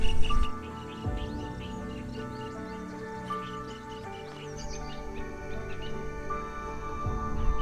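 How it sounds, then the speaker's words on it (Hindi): Birds chirp faintly over a steady background hum, with a continuous outdoor wash of sound including crickets, at the Bagh Buddhist caves in Madhya Pradesh; no talking. "चिड़ियों की जो चहचहाने की आवाज़ है, झींगुर के गूंजने की आवाज़ है"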